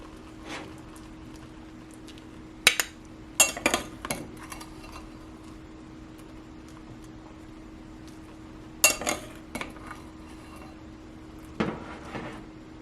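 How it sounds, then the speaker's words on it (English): Metal utensil clinks and scrapes against a Nostalgia MyMini electric skillet as cooked noodles are scooped out, a few sharp clusters of clatter over a quiet kitchen background. "Let's see if it's easy to scoop these out."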